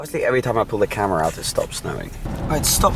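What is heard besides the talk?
None of the usual background noises is heard.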